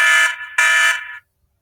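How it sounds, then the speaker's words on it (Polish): A KIS603 alarm station gives a loud electronic alarm in two short, high-pitched bursts, one right after the other, then cuts off into silence. "usłyszymy komunikat alarmowy"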